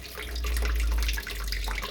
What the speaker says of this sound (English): So let's get rid of the water.